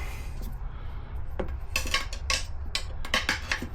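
Two metal wrenches levering a tire off a scooter rim give a run of sharp metallic clinks and scrapes, irregular and close, over a low steady hum.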